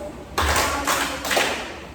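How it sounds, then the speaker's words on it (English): A classroom applauding a student: a few short bursts of clapping and thumps, close and fairly loud, dying away within two seconds. "Please give her a good claps."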